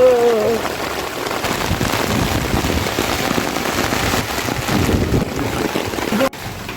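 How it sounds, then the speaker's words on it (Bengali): Heavy rain falls during Cyclone Remal as a loud, continuous, close downpour. It is a dense hissing roar that holds steady throughout. "বৃষ্টি চলেই আসলো আর ভিজে গেলাম একদম বৃষ্টিতে"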